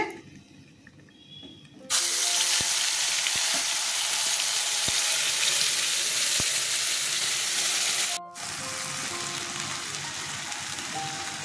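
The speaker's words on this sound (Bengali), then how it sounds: "তেল গরম হয়ে গেছে, ছেড়ে দিচ্ছি।" Food hits hot oil in a wok with a sudden loud sizzle that holds steady and drops slightly after a stir, while cooking vegetarian stuffed ash gourd.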